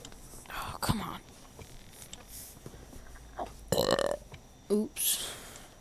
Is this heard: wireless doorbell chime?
no